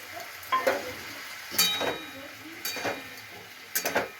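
Ginger and green chili paste goes into vegetables frying in a pan, heard as a low sizzle broken by several scraping stirs and clinks of a spoon against the pan, with no talking.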